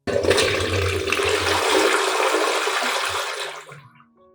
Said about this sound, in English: Finally, flush the water and it is clean.